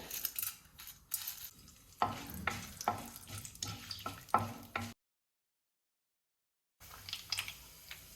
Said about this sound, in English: So the oil is hot. I'm adding in 1 teaspoon of mustard seeds, chana dal